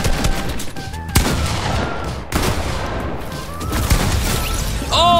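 Gunfire in the Fortnite video game, several sharp shots scattered over a dense, loud game mix with other action sounds.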